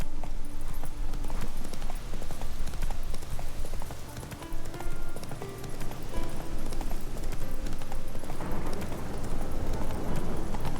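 Roach, the horse in The Witcher 3 video game, gallops in a storm, with a rapid, steady clip-clop of hooves close up. Low rumbling fills the background and nobody speaks.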